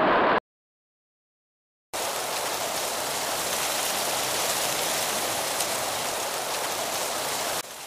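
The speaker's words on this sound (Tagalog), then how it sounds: "Tama, ito ay tunog ng ilog." A river flows in a steady, broadband rush of water that runs continuously for several seconds after a short silent gap, with no voices.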